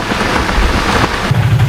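Heavy rain pours steadily with a low thunder rumble building near the end, loud and continuous with no voices.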